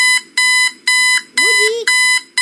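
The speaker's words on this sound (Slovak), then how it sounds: "Budík." A video game alarm clock rings in Sleep Paralysis with loud, close, evenly spaced electronic beeps, five or six bursts in a steady rhythm, while a voice briefly talks over one of them.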